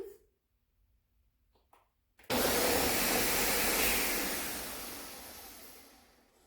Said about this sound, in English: You can either put it in a blender like this, or you can use one of those handheld emulsifiers, but just puree until smooth.